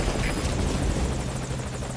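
Extraction helicopter in the video game Metal Gear Solid V Ground Zeroes, a steady loud rotor thump and engine whine that holds close and constant throughout, with no talk over it.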